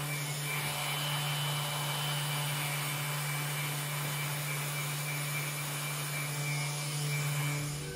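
A power sander works heavily over birch wooden furniture legs, a steady close droning buzz with a constant low hum running throughout, no talking.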